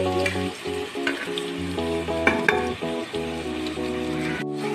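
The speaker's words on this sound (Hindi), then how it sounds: "अब हम इसे गोल्डन ब्राउन होने तक इस तरीके से फ्राई करने के लिए छोड़ देंगे।" Cumin, black cardamom, cloves, black peppercorns and bay leaves fry with onions in hot oil, a steady close sizzle with stirring scrapes, under background music.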